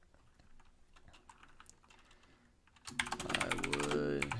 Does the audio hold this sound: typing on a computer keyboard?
yes